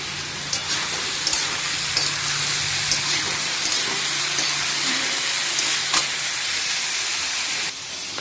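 Soybean chunks, potato and onion shallow-fry in a pan with little oil, giving a steady close sizzle and hiss broken by a few light scrapes and taps of stirring.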